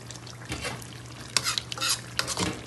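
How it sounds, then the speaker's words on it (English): A spoon stirs ketchup into Jamaican oxtail cooking in a pot, giving a few short scraping, sizzling strokes in quick bursts at close range, with no talk. "Stir that in."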